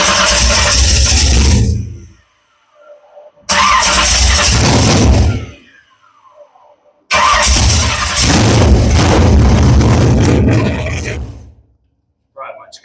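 A dirt modified race car engine fires and roars loudly three times, the first two runs cutting out after about two seconds and the third running longer before dying, with short quiet gaps between attempts.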